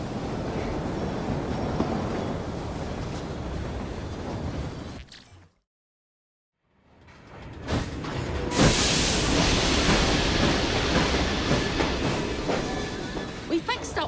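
Train in the video game Assassin's Creed: Syndicate, a steady rumbling, hissing rail noise that cuts out briefly, then returns louder with steam-like hiss, with speech over it.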